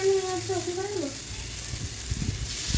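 Chicken tikka skewers sizzle as they are set into a pan of hot butter, with a steady frying crackle under a voice that talks over the first half, and a few soft knocks near the end.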